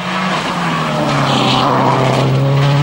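A Peugeot 207 S2000 rally car at the 2011 TAC Rally, engine loud and close with a steady high drone and tyre noise running unbroken for a few seconds, no voices.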